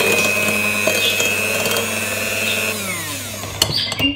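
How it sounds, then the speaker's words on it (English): A kitchen blender whirs steadily while mixing cake batter with egg yolks, a loud continuous motor drone that winds down near the end, followed by a few clattering knocks. "I wouldn't stop the blender in the meantime"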